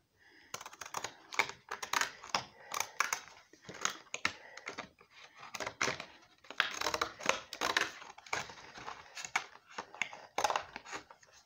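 Rapid, irregular crisp snips and crunches of scissors cutting up a paper birthday card close by, continuing in bursts with short pauses between them.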